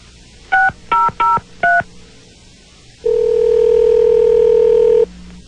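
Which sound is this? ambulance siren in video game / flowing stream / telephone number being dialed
telephone number being dialed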